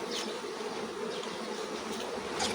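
Honeybees at a beehive make a continuous, fairly faint buzzing hum, with a few individual bees droning closer as they pass.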